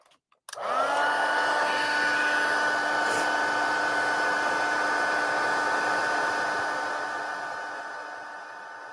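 A heat tool blowing hot air to melt white embossing powder, switched on abruptly and running as a loud steady whirring hum close up, tapering slightly toward the end.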